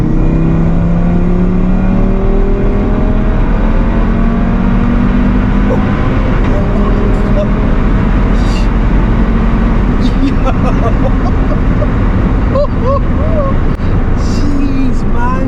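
A 700 bhp big-turbo stage 3 Audi RS3 accelerates hard on a street, its engine roaring loud and close throughout with a rising, sustained revving note and no voices heard.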